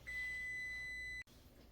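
A kitchen timer set for cranberries cooking on the stove gives one long, steady electronic beep of just over a second, then cuts off into quiet room tone.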